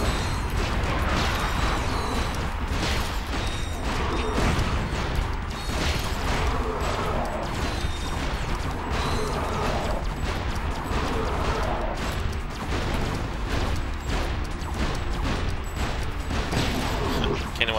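Shotgun fire and other weapons in the action game Ratchet Deadlocked, heard as a dense, continuous barrage of loud blasts and mechanical clatter with no pause, mixed with game effects and some talk.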